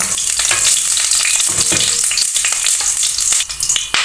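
Refined oil in a hot frying pan crackles and sizzles loudly and steadily throughout, close up with no talking.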